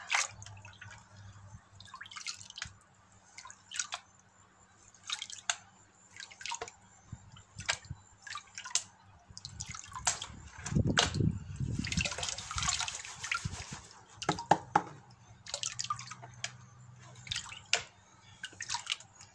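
Water sloshes and drips as a Garrett Super Sluice gold pan is shaken while panning paydirt, repeated short splashes and trickles coming close and fairly quiet, with a fuller swirl midway.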